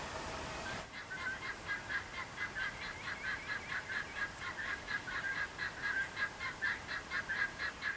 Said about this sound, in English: I think it's turkeys